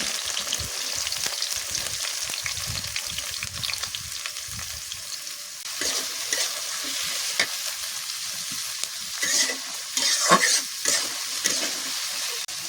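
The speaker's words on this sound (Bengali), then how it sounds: "দিয়া দিতেছি পেঁয়াজ রসুন গুলো, কাঁচামরিচ একসাথে সব দিয়ে দিতেছি" Onion, garlic and green chili fry together in oil in a hot iron pan, a steady close sizzle broken by stirring scrapes and clicks, with no voices over it.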